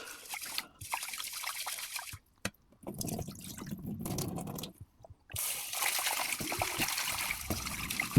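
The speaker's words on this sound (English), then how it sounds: "you have to wash until you get clear water" Sushi rice is rinsed by hand in cold water, with trickling, sloshing and dripping water in uneven bursts and brief near-silent gaps, close and moderately loud with no speech.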